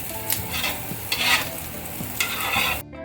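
Prawns fry in a pan with a close, lively sizzle broken by repeated stirring scrapes and clinks, then cut off abruptly at the end; no voices.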